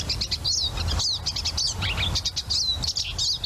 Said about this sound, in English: Another bird that has a couple of different songs that you're apt to hear.